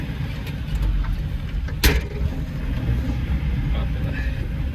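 An Opel car, nearly finished as a project, drives on a closed road during a test run; a steady low engine and road rumble fills the cabin, broken by one brief sharp knock midway.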